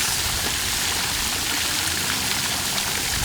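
A small waterfall in a stream pours steadily, a loud, even, broadband rush of falling water that stays close and continuous throughout, with no voices.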